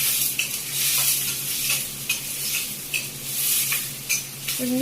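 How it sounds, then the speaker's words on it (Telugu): Mustard seeds, green chillies and onions fry in hot oil for semiya egg rolls, a steady close sizzle broken by repeated light scrapes and taps of a stirring utensil against the pan. "ఫస్ట్ ఆయిల్ వేసుకున్నాక ఆవాలు వేసుకుని అందులో పచ్చిమిర్చి, ఉల్లిపాయ వేసుకోవాలండి"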